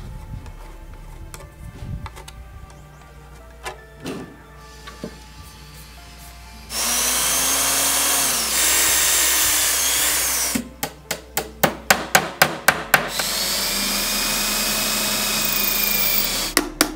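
A power drill bores into a homemade tower speaker box, with two sustained loud whirring runs separated by a burst of rapid short trigger pulses, following quieter ticking and handling noises.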